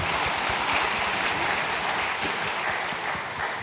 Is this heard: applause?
yes